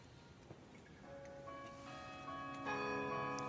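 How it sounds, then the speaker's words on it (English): The City Hall bells in Oslo chime during a Nobel ceremony, their sustained ringing tones layering and building over a few seconds, moderately loud and heard alone. "we hear the famous City Hall bells begin to chime"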